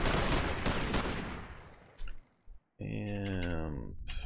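Rapid burst of M60 turret machine-gun fire in the game Cataclysm DDA, dense clattering shots for about two seconds before trailing off, followed by a person talking.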